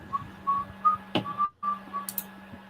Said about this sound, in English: Who's the whistler? Me. No whistling allowed.